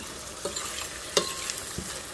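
Tomato sauce is stirred into borscht frying in a pan: a soft, continuous sizzle with a few sharp utensil scrapes and clinks, close and moderately quiet, with no talking.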